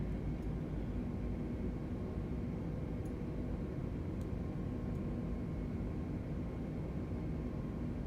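An A320neo climbs after takeoff in Microsoft Flight Simulator 2020, heard as a steady, even jet engine roar with broad noise from start to finish and no talk.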